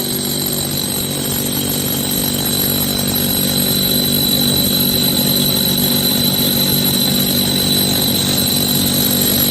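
A core drill with a coring bit bores a hole during HVAC lineset work, a loud, steady whine with a high tonal hum running unbroken throughout, no talk.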